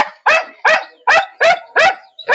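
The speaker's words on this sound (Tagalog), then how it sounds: "May aso, maingay." A dog barks loudly and close by, seven sharp barks in a steady, rapid rhythm with brief gaps between them.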